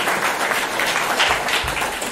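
An audience applauds a speaker at a French-language community gathering, a steady wash of clapping that carries through the whole moment at moderate loudness.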